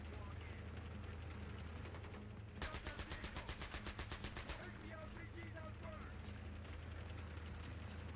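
Rapid automatic gunfire in a Battlefield 3 campaign mission, a burst of about two seconds of evenly spaced shots standing out over constant low engine rumble and battle noise, with scattered distant shots around it.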